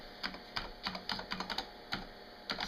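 Someone types on the keyboard of a Zenith Data Systems ZDE 1217 computer. About a dozen quick, close clicky keystrokes come in an uneven rhythm, with no talking.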